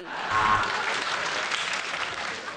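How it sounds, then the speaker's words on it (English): Audience applause at a British stand-up comedy show, a dense burst of clapping from a crowd that holds steady for a couple of seconds, fairly loud and close with no talk over it. "A round of applause?"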